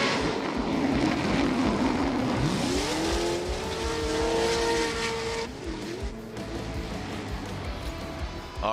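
A Formula Drift car drives through the course, its engine roaring loud and rising in pitch with tire squeal, then fading as it passes, with crowd and track noise behind.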